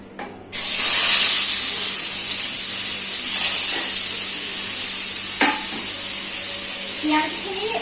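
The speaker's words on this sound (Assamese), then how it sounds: "পিয়াজখিনি মই এতিয়া অলপ ৰঙচুৱাকে ভাজিম" Onions hitting hot oil in a home kitchen pan, a loud steady sizzle bursting in after a brief quiet start and holding close throughout, with occasional stirring scrapes and no talk over it.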